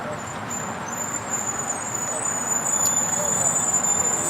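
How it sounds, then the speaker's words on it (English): A bus at LAX airport gives off a steady, piercing high-pitched screech that persists over a broad rumbling background. "I can't stand that screeching sound from the bus."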